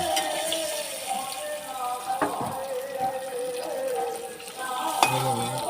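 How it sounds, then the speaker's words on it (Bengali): An egg frying in a pan, with a steady sizzle and occasional stirring scrapes and clinks of utensils against the pan. "ডিম ভাজা হয়ে গেল হালকা"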